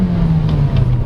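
A 2019 Kia Forte LX with a 6-speed automatic pulls away from low speed at full throttle, its steady engine drone rising slightly in pitch, close and continuous throughout.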